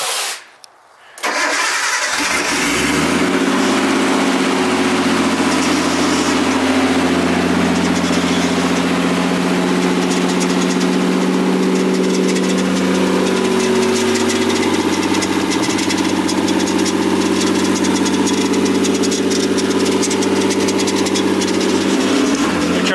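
A Nissan R34 Skyline cranks and fires up, then settles into a steady, loud idle with a deep rumble while raised on jack stands in a garage.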